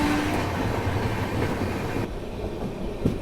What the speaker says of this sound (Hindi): 120 किलोमीटर पर आवर की रफ्तार में ट्रेन चल रही है